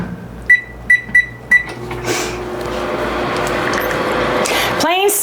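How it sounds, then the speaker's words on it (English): A microwave oven heating turkey in a home kitchen: four short sharp beeps from button presses, then a steady low hum with fan noise as it runs, fairly close, with faint background sounds at the end. "Turn on my microwave while I'm doing this and just heat my turkey for a minute"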